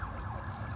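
Emergency vehicle sirens on Sunset Boulevard in Hollywood wail faintly in the distance, a rising and falling tone over low city rumble.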